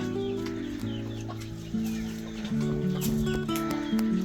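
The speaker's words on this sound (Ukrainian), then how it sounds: "Ще один джерсіс, дуже великі кури, дуже гарні." Jersey Giant chickens cluck and murmur nearby with low, drawn-out calls, a steady layered chorus of contented hen sounds.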